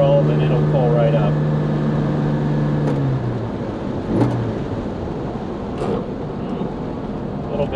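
A Jaguar E-Type coupe's engine pulls up a steep backroad hill in the Finger Lakes, its low steady drone loud inside the cabin and easing off partway through, with someone talking over it.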